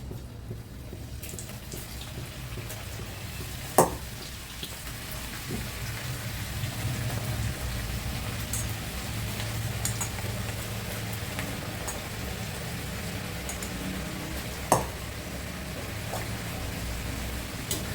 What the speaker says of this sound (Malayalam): അപ്പോൾ നമുക്ക് ആദ്യം കുറച്ച് എണ്ണ ചൂടായിട്ട് വറുത്ത് പോകാം.